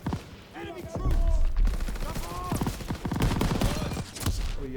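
Rapid automatic gunfire from a WWII-era machine gun in the Call of Duty WWII video game, loud and sustained bursts mixed with other battle noise and overlapping voiced game dialogue.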